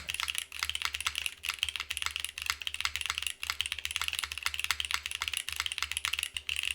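Continuous rapid keystrokes on a Vida prototype mechanical keyboard with an FR4 plate and no screws, close up and steady with a crisp clacky rhythm and no voices.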